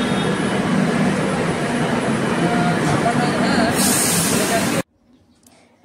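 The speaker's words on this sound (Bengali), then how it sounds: "আমাদের মেট্রো এখন আসে।" A metro train arriving at a station, a loud continuous roaring rush of wheels and motion noise that holds steady for several seconds, then drops off abruptly into near quiet.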